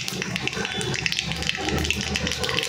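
Mustard seeds crackle and spit in hot oil in a home kitchen, a busy, close sizzle full of rapid sharp pops and hiss, with no voice over it.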